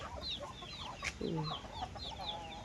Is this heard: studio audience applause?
no